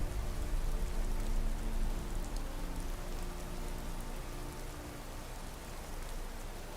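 Steady rain falls in the video game Skyrim, a dense, continuous hiss of drops on surfaces that stays loud and even throughout with no voices.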